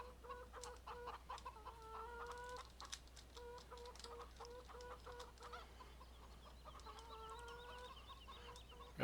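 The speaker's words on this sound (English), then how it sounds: "So we have our chickens over here, self-contained in their nice little pen." Chickens cluck in a pen in the video game Farming Simulator 17, repeated short clucking bursts at a moderate distance over a constant low hum, with no talking.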